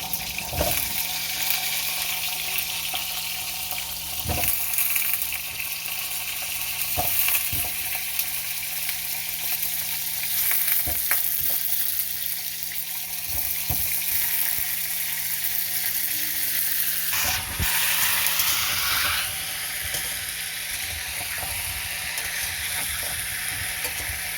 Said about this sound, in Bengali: পটলগুলোকে কম আঁচে লাল করে ভেজে নিচ্ছি।